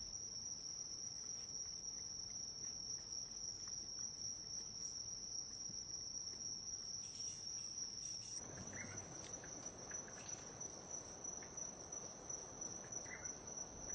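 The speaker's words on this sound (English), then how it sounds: "Other fascinating creatures found in the forest, if one looks hard enough, are insects of various shapes and colors." Insects in a forest chirp in a dense, continuous high-pitched trill, steady and even throughout, with a faint wash of other forest noise rising midway.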